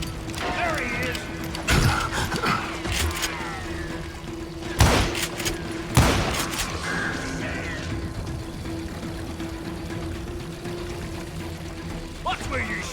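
Gunshots crack out in scattered single reports in a Wild West shootout in Call of Juarez: Gunslinger, over game music and ambient sound effects, with a voice talking in the scene.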